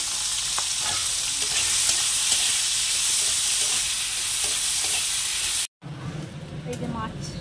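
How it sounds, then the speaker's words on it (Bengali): Prawns coated in salt and turmeric fry in hot oil in a wok, a steady loud sizzle with stirring clicks, cutting out briefly near the end before resuming with a brighter crackle. "এবার ওই চিংড়ি মাছগুলোকে নুন হলুদ যে মাখিয়ে নিচ্ছি, এগুলো একটু হালকা ভেজে তুলে নেব।"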